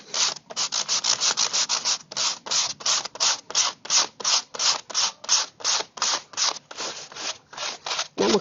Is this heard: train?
no